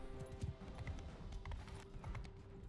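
Horses gallop in the video game Mount & Blade II: Bannerlord, a quiet, steady drumming of hoofbeats that rolls on evenly beneath faint battle ambience.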